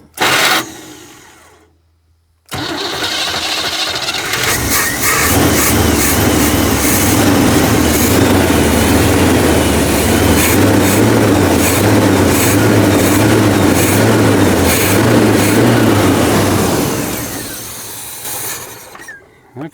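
An abandoned Chevy squarebody truck's engine cranks, catches and runs on weed-whacker gas. It roars loud and steady with a rough, pulsing rhythm, then cuts off near the end.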